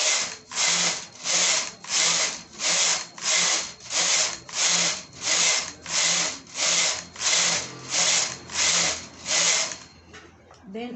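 A knitting machine carriage runs back and forth knitting rows, a loud rhythmic series of about fourteen even whooshing swipes, one every half second or so, ending in a few lighter clicks.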